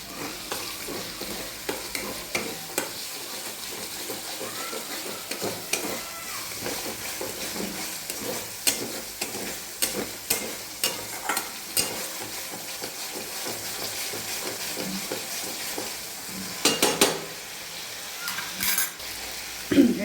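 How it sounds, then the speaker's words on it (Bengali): Spiced masala for a spinach and paneer vegetarian dish fries in a pan, a steady close sizzle punctuated by frequent scraping and clinking as a spoon stirs it against the metal. "মশলাটা ভালো করে ভেজে নেবো"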